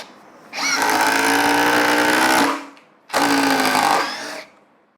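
A Ryobi 18V brushless cordless impact driver fitted with a 3 amp hour battery drives a 3-inch T25 screw: two loud, close bursts of rapid hammering whine, the first running about two seconds, a short pause, then a shorter second burst.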